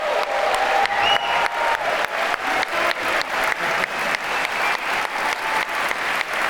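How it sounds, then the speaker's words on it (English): A warm round of audience applause for author Cory Doctorow after a talk with Aaron Bastani, with sustained, even clapping from a crowd and some regular pulsing through the noise. "Everybody, a warm round of applause for Cory Doctorow."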